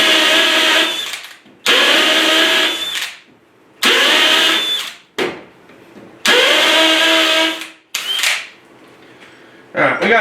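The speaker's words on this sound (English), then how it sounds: "so let's drill some new holes." A DeWalt cordless drill whirs up in several bursts while drilling new holes, each run loud and close, with pauses between runs and the motor spinning down at the end of each.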